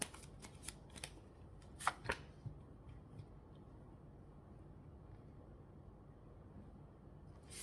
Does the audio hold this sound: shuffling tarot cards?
yes